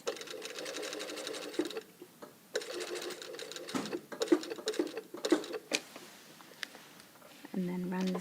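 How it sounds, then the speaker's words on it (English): A sewing machine stitches a blazer lapel seam, starting from a corner with a few back tacks, its fast mechanical rattle running in bursts with pauses and soft talk between them. "I start sewing from this corner here. Back tack a few times."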